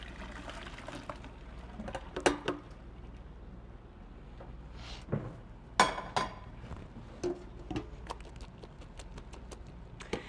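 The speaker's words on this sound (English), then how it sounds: "I'm going to drain them and set them aside until I'm ready to assemble the pot pies" Water being drained from a pot of boiled potatoes: a quiet, steady pouring wash with scattered soft clinks and splashes.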